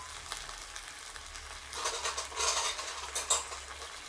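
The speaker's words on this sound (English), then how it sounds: "Fry the jiam chai." Jiam chai salted vegetable frying in a pan, with a low sizzle under clinking utensil scrapes that grow busier partway through, close and without talk.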